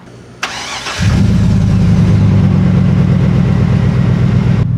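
GMC Yukon engine starting after sitting a week unused, a click, a short crank, then a quick catch into a loud, steady close idle.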